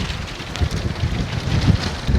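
Gusty wind buffets the microphone with a steady, rumbling roar, swelling and easing in uneven gusts throughout.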